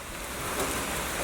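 Steady rain patters in a dense, even hiss, close by and unbroken.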